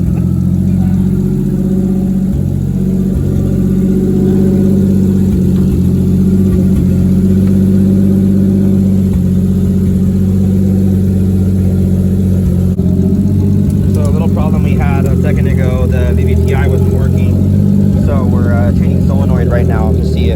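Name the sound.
2JZ engine in an IROC Camaro starting, revving and idling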